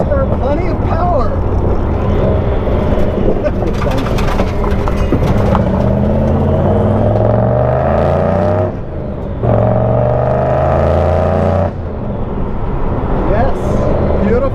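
A supercharged 1965 Ford Mustang with over 400 horsepower runs loud and close, its engine note rising and falling in revs, with a brief dip midway, while people talk over it.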